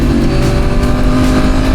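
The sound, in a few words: Honda CBR 1000RR-R Fireblade SP motorcycle revving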